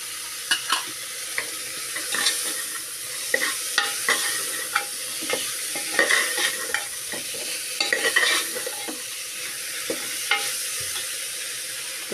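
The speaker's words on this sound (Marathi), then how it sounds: "चवळी छान परतल्यावर आपण टाकूया त्याच्यामध्ये हा ओला काजूगर" Black-eyed peas and fresh cashew nuts are sautéed in a pan, a soft steady sizzle broken by repeated scraping stirs of a spoon at an uneven rhythm, close and fairly quiet, with no talking.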